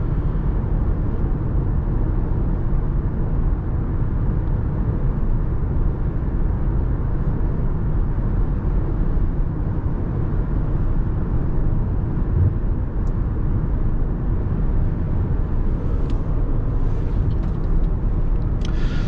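Steady low road rumble inside a 2022 Subaru Forester Premium on the move, a constant broadband drone with tire and wind noise throughout, faint brief ticks near the end, no voices.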